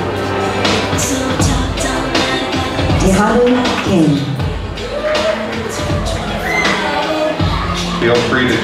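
A large assembly audience at Aloha Assembly 2024 cheering and clapping as one continuous loud roar, with shouting voices rising and falling across the whole stretch.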